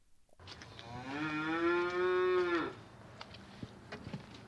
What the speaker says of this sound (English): The cows sound very happy out there, John